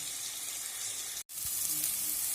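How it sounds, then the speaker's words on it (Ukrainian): Flour-dredged hake frying in a pan gives a loud, steady close-up sizzle with a brief dropout partway through, then continuous crackling. "тепер я її поставила смажити перед тим обмакнувши в борошно"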